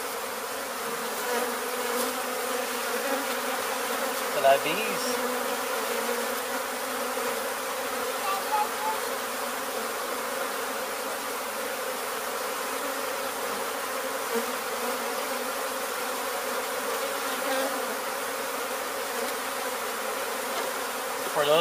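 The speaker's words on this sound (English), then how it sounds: "Bees." Honey bee swarm in Weslaco, Texas, the first of the year with three queens, buzzing as a dense continuous drone throughout, steady and close with only small swells.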